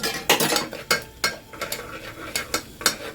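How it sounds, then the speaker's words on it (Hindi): A spoon clinks and scrapes in a pan as ginger garlic paste is stirred into frying onions, with a series of regular close strokes over a soft sizzle. "मिक्स कर देंगे"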